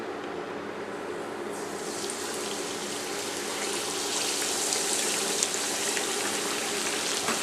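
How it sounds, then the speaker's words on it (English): Red snapper frying in oil heated to 350 degrees Fahrenheit in a skillet, a steady dense sizzle and crackle like light rain that swells louder after the fish goes in, heard alone without talk. "With a pair of tongs, add the fish to the skillet."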